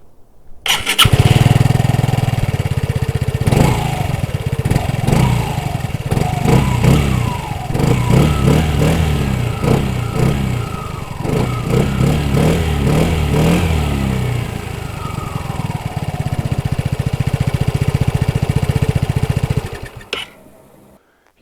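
A 2021 Vespa Primavera S 125 scooter engine starts up and runs close by, idling and revving in uneven surges for about twenty seconds before cutting off.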